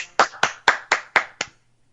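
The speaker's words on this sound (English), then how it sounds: "Let the man get his applause." One person claps six sharp, evenly spaced times, close and loud, and then the sound stops abruptly into near silence.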